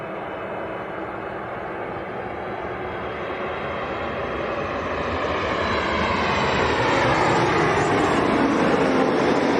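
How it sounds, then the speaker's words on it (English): Ryanair Boeing 737 Max, a year-old jet arriving from Krakow at Leeds Bradford Airport, gives a loud, steady engine roar and broadband rush that swells gradually louder through the whole stretch, with no talking. "So this is a Ryanair Max from Krakow."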